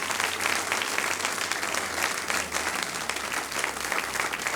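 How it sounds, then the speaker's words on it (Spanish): A church congregation claps loudly and steadily, a dense wash of applause for the Lord that fills the room without pause. "denle un aplauso grande al Señor"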